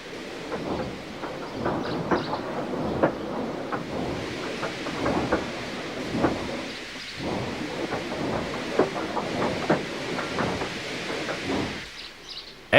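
Steam engine Gordon rumbling slowly onto a siding in the Trainz railway game, a steady low chuffing and rolling clatter with scattered knocks throughout, fairly loud and continuous with no talk.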